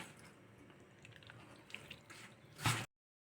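Water trickles faintly and steadily into dough for sweet and savoury seedai, then ends in a short, louder splash just before the sound stops.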